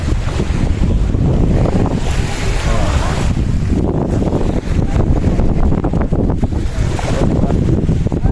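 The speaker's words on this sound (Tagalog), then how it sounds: "Oy, ito, dagat." Sea waves breaking on a shore surge in loud, rolling rushes heavily mixed with strong wind buffeting the microphone, forming a constant roar with brief swells.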